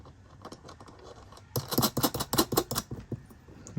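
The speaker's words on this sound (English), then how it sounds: "tighten it all down." Metal-on-metal clicks and ratcheting scrapes from a nut being tightened down over a spring washer and washer on a cable lug at a Giandel 1200 watt pure sine inverter battery terminal, a quick burst of close, sharp clicks after a quiet start.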